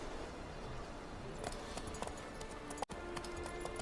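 Horse hooves clip-clopping in The Witcher 3, a steady soft trot under constant game ambience, with a brief sharp dropout near the end.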